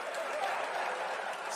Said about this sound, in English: Yeah, still applauding.